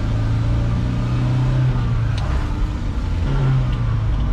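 Rebuilt truck engine running smoothly on a first drive after the build, a loud, even hum with low tones that rise and fall slightly as the truck moves, with no voices over it.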